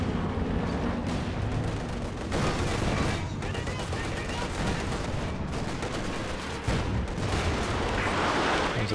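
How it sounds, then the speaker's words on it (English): Werfer rocket artillery barrage pounding the battlefield in Company of Heroes 2, a dense, continuous roar of overlapping blasts and crackling impacts that runs loud and unbroken, with faint talk mixed beneath. "There's a Werfer barrage"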